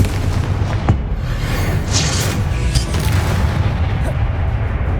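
A Confringo spell in the video game Hogwarts Legacy sets off loud booming blasts, with repeated heavy explosive rumbles over continuous dense game noise.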